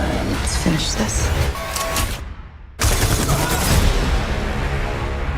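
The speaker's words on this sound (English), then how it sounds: "Watch for the incredible shootout scenes where bullets tear through walls in slow motion" Gunfire erupts in a film shootout where bullets tear through walls, with dense bursts of shots that cut out for a moment and then resume, mixed with other soundtrack noise.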